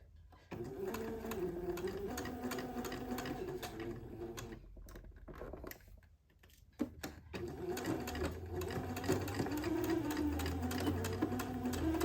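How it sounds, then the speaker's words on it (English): A domestic sewing machine stitching white lace with white thread runs in a steady whirring hum, pausing briefly midway before starting again, fairly quiet and close. "I'm leaving my white thread in my machine because I generally don't like to see the colored thread on the white lace"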